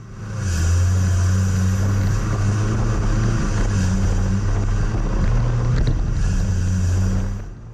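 A Ford Ranger 4WD claws up the Callcup Hill sand dune, its engine revving hard and rising and falling in pitch with steady wind buffeting, loud and sustained throughout.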